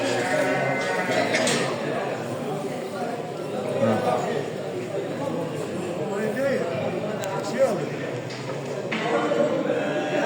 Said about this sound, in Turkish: Bunlar kurbanlık koyunlar arkadaşlar.